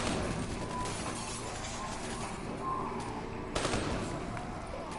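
Machine gun fire in Call of Duty 3 rattles on as a steady, fairly distant wash of shots under a dense battle mix, with one sharper burst near the end.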